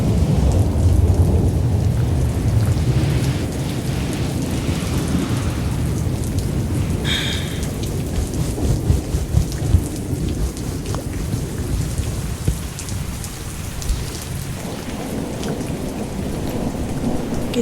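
Steady heavy rain with rolling thunder during a thunderstorm, a continuous dense wash of downpour with low rumbles swelling throughout and no voices.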